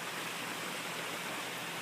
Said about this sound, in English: I guess it's always great to start the day with a little rain.